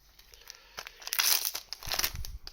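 A foil trading card pack wrapper for a z/x card game is torn open and crinkled by hand, with close, bright rustling bursts that rise over a couple of seconds.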